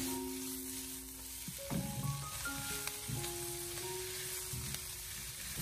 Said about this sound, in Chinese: 这个时候再把韭菜心放进锅中，然后再继续的开大火给它翻炒均匀。